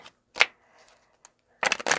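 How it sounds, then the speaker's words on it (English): A few short bursts of a tarot deck being riffled and snapped, a quick flick early on and a louder double riffle at the end, with quiet gaps between. "shuffle this deck a little bit."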